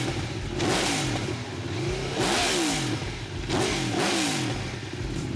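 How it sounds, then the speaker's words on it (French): Aprilia V4 motorcycle engine revving in three repeated bursts, each rising and falling in pitch, with a steady idle between blips, close and fairly loud. "On va faire partir son bike, là."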